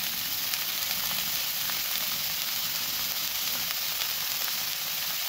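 Chopped onion sizzling steadily in a hot pan of cooking cauliflower and potato, a continuous bright frying hiss close and fairly loud, with no talk.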